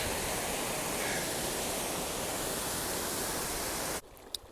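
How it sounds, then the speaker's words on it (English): A mountain waterfall beside the Pacific Crest Trail near Silver Pass roars as a loud, continuous broadband rush that cuts off abruptly near the end. "Cool waterfall."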